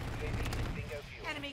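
Bursts of automatic gunfire in Call of Duty MW3 multiplayer with a BAL-27 rifle, dense rapid cracks layered over a booming low rumble, with game voice chatter running beneath the shots.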